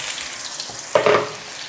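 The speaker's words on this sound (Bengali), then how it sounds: "এটা ভেজে নেবো একটু।" Long-cut vegetables, peeled and washed, hit hot oil in a pan, giving a sudden close sizzle that swells, crackles briefly, then settles into a steady low hiss.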